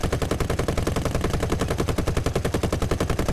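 Rapid, loud machine gun fire from the rear turret of a British bomber in War Thunder, a continuous burst of evenly spaced shots with no pause.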